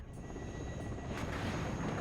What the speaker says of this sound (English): Up here we can see a bomber coming in for DarrickS there